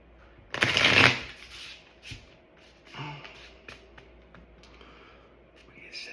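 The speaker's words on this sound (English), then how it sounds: "I'm gonna do one more shuffle." A deck of playing cards is shuffled in one loud, quick riffle burst near the start, followed by softer card handling and faint breathing sounds.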